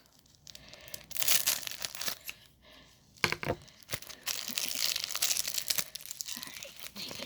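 Scissors snip and crinkle through a plastic packaging bag in an unboxing, giving close, intermittent crunchy crackles with short pauses, and no one speaks over them.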